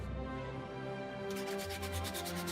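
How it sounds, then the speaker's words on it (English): A painted wooden wand being sanded down, steady rubbing strokes of sandpaper over wood, close and continuous, turning into a faster rhythmic back-and-forth scraping partway through. "After many attempts to fix the color, I decided to sand everything down and start again."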